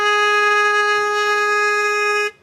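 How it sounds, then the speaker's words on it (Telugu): A loud vehicle horn with a deep, train-like tone blares in one continuous, steady blast for over two seconds, then cuts off abruptly. "ఇది ట్రైన్ లా ఉందండి, ట్రైన్ హార్నా?"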